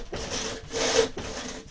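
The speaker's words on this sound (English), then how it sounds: "This is a miter box saw, but it works quite nicely for accurate freehand cuts as well." A miter box saw cuts through wood held in a mechanic's vise, pushing out two rasping strokes with a brief pause between them, close and fairly loud, with nothing else heard.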